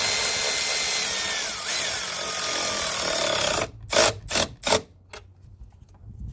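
A power ratchet working on a battery hold-down bolt in a Jeep Compass, heard as a steady whirring tool run followed by several short, loud bursts of ratcheting as the bolt is snugged down, fairly close.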